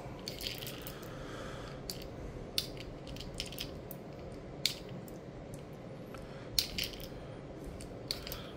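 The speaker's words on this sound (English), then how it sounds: "Loading shells up" Rifle cartridges being loaded into a Ruger 10/22 magazine using a stripper clip give off sharp metallic clicks and ratcheting snaps at irregular intervals. The sounds are close and fairly quiet over a steady low background hum, with no talking.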